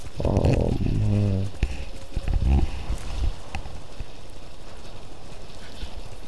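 Horse hooves clip-clop at a steady riding gait in the Ghost of Tsushima video game, loud and close during the first few seconds and then fading into a quieter background wash.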